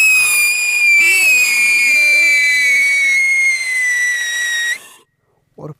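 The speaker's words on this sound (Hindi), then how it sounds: "अब टेस्ट करते हैं इस कोक ब्रांड की सायरन पेंसिल का और देखते हैं ये कैसी चलती है" A Coke-brand siren pencil firework shrieks with a loud, steady high whistle lasting nearly five seconds, pitch sliding slightly downward, before cutting off abruptly; a short burst of voice follows after a brief silence.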